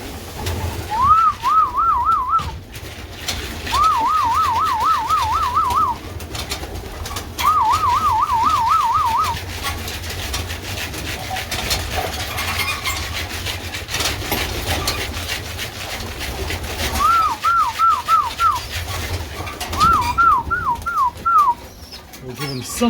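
Repeated warbling, siren-like bursts from young pigeons come in short phrases with pauses between, over a steady outdoor rumble.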